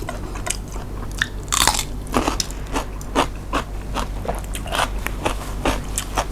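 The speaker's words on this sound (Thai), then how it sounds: "กรอบกรอบ" Repeated crisp bites and crunching into fried soft-shell crab coated with heavy garlic, a series of sharp close crunches spread irregularly through the stretch with chewing in between, no talking.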